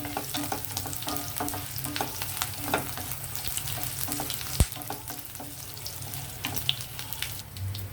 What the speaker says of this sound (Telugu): చక్కగా వేగిపోయింది చూసారా మన తాలింపు